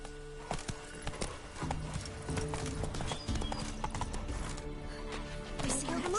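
Roach the horse in The Witcher 3 video game, hooves clip-clopping in a steady galloping rhythm close by, mixed with game ambience and music, with a voice speaking briefly over it.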